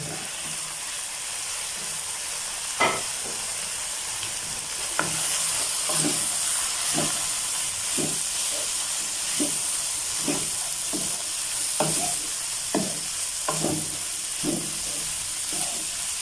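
Fried cauliflower is stirred into masala in a hot pan. A spoon gives repeated scraping strokes about once a second over a constant soft sizzle and hiss. No voices are heard.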